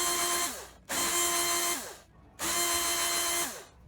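A power drill with a 1/4 inch bit bores holes in two separate bursts, each spinning up, holding a steady whine for about a second, then winding down.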